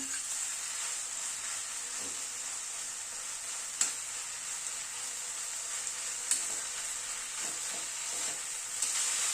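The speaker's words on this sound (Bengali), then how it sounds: "পালংটাকে মশলার সাথে একটুখানি কষিয়ে নিচ্ছি" Spinach being sautéed with spices in a pan for a dal with winter vegetables gives a steady, quiet sizzle, with a few soft stirring scrapes and clinks over the hiss, no voices.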